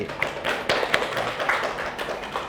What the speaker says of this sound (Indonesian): Oke, kita beri aplaus dulu untuk si Gusti